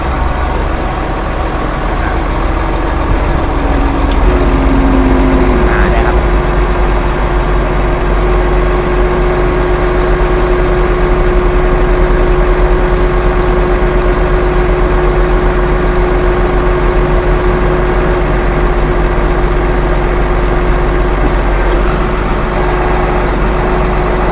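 Isuzu FVM 300 ten-wheel truck fitted with a 5-ton UNIC UCAN 504 crane, its diesel engine running steadily at a raised idle with a continuous low drone and a faint rising tone near the start.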